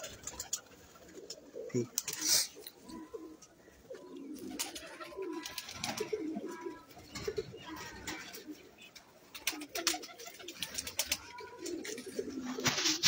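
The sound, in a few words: Teddy breeder pigeons cooing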